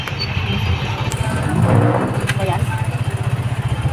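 A motorcycle engine runs close by with a steady low pulsing throb as riders set off, revving up briefly in the middle and then settling back into an even chug.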